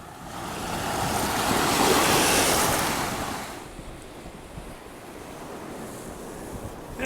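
Rough surf and strong wind on the beach at Vermillion Point: a loud roar of breaking waves swells and then eases into a softer, continuous rush, with gusts buffeting the microphone throughout.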